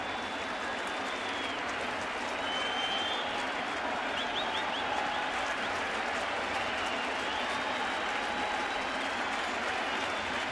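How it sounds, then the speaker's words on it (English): A large baseball stadium crowd claps in a steady rhythmic beat on Blue Jays opening day 2015, a dense wash of applause heard from a distance with a brief high whistle. "You hear that rhythmic applause"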